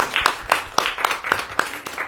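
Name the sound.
schoolchildren and adults applauding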